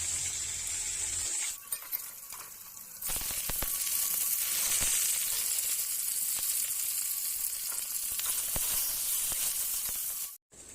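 Pieces of fresh pond-caught katla fish fry in hot oil with a loud, steady, close sizzle that swells after a brief lull and cuts off abruptly at the end.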